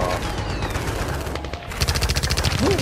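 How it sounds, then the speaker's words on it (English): Gunfire crackling in rapid bursts, a loud, dense rattle of repeated shots that thickens into a fast machine-gun-like stream toward the end, with no talking over it. "Do you hear the gunfire?"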